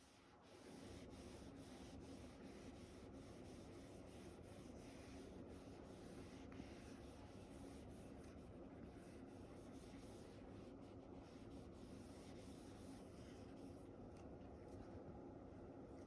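Writing being rubbed off a board during an engineering lecture, a continuous dry scrubbing rasp that runs steadily for many seconds with slight rhythmic pulses, close and fairly quiet, no speech.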